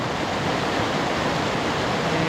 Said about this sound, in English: So here's a great look at Lick Creek.